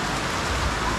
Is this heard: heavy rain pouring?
yes